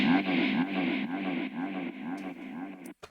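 Vocal stop sample pitched down an octave with delay and reverb in a raw techno production, a repeating pulsing vocal tone with echoing tails before a short abrupt stop.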